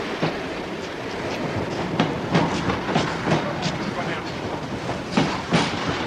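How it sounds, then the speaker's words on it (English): A train pulls into a platform at Watford Junction, a steady rumble with rhythmic clacking of wheels over rail joints, moderately loud and continuous. "Train now arriving at platform 8"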